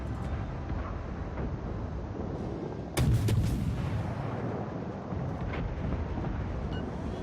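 Warship gunfire in the War of Warships naval video game: a single loud, sharp blast about midway through, standing out from a steady rumbling background.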